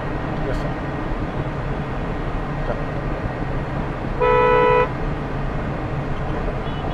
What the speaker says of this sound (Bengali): এখানে একটু স্লো হর্ন দেন,